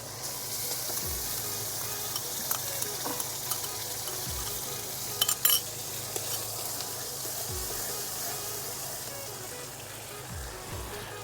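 Paste of mustard, ginger, garlic, onion and coriander leaf frying with tomatoes for a Bengali mustard katla fish curry: a steady, moderate sizzle with occasional low thumps and a few faint spoon clinks.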